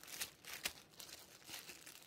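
Plastic bag crinkling as homemade napa cabbage kimchi is packed: soft, close rustles with a few sharper crackles in irregular bursts, fairly quiet, with no talking.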